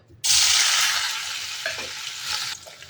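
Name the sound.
paneer pieces frying in hot oil in a wok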